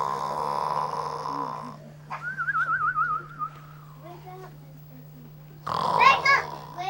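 A narrator's voice imitates a big snore at the close of a Goldilocks story read aloud, a wavering drawn-out tone lasting about two seconds, with a hum underneath and brief speech on either side.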